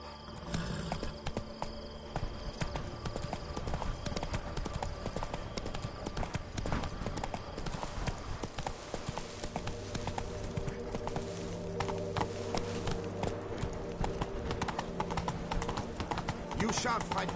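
Hooves of Roach the horse clip-clopping in The Witcher 3, a steady dense trot running throughout beneath a busy wash of game ambience and music, with no speech.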